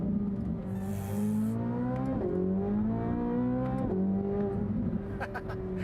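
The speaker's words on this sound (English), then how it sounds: "Feel the rear start to squirm under throttle there. Oh my God, what an unbelievable engine." A sports car engine revs hard under throttle, its loud, rising note climbing steadily with brief dips at each gear shift, then pulling up again, close and sustained across the whole stretch with no talk.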